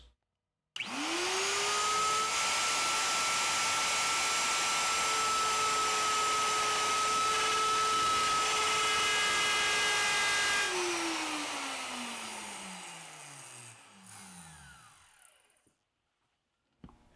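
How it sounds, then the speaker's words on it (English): A plunge router spins up and cuts a shallow mortise for a Soss invisible hinge in a cabinet door, a loud, steady high-pitched whine held for about ten seconds before winding down and stopping, alone without talk. "use my plunge router to cut the shallow mortise"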